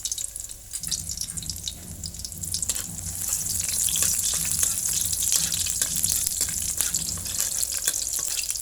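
Mushrooms and garlic stir-frying in hot oil, a steady close sizzle that swells louder partway through, broken by frequent sharp scrapes and clicks of a utensil against the pan.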